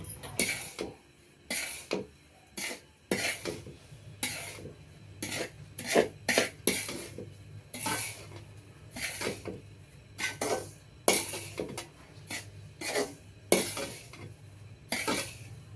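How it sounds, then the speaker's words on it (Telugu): Semolina being stirred and roasted in a pan for beetroot laddu, a steady series of scraping and clinking strokes of a spoon against the pan, close and fairly quiet, with no talk. "ఈ విధంగా మాడకుండా కలుపుకుంటూ ఉండాలండి"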